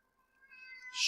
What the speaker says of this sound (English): You didn't hear the cat scream in the background.